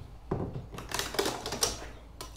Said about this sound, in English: Let me grab the tape measure.